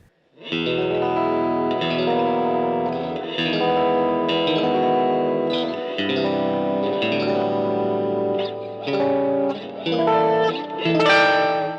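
Electric guitar strumming a series of chords, heavily processed with chorus, distortion and echo, sustained and fairly loud.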